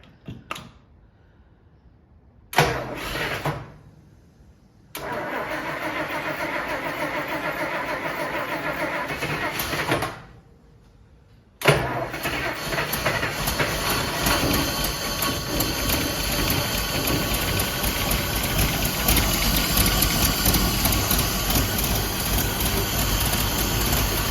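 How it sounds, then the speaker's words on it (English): A 1961 Rolls Royce Silver Cloud II with a rebuilt distributor cranks in short bursts with gaps, then catches and settles into a steady, loud idle that runs on, with a few brief voices in between. "First startup with the rebuilt distributor."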